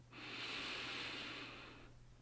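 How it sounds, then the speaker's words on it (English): One slow, deep breath drawn in through the nose, a long airy hiss that swells and then fades over about two seconds, close and soft against a faint background hum. "take a deep breath in"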